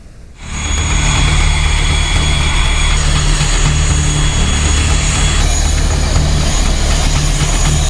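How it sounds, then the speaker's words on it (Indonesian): Indonesian Air Force Hercules transport plane engines drone loudly and steadily, a constant propeller roar that swells in at the start and holds without letup, with no voices. "Dengan menggunakan pesawat Hercules milik TNI Angkatan Udara"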